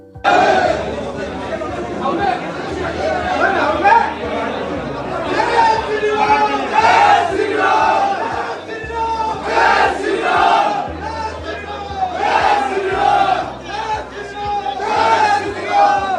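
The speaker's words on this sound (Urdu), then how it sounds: "حملہ آوروں نے جے شری رام اور بھارت ماتا کی جے کے نعرے لگائے" Mob shouting Jai Shri Ram and Bharat Mata ki Jai slogans during an attack on an anti-Modi gathering at Delhi's Constitution Club, loud repeated chanted bursts in a rhythmic cadence, voices massed and close, continuing throughout.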